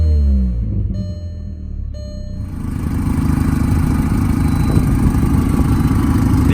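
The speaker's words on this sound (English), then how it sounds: "Unfortunately, the vehicle does have an exhaust leak at the moment" Idling engine of a 2004 Volkswagen Jetta with an exhaust leak, a steady low rumble with a fast ticking, puffing pulse, close and loud throughout, growing rougher after a brief quieter start.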